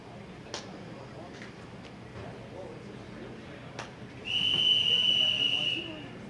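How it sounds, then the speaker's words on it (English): At the 2015 QubicaAMF Bowling World Cup women's event, a single steady, shrill whistle blast sounds for about a second and a half. Before it, a few scattered clicks and ticks carry over quiet hall ambience. "there's the whistle"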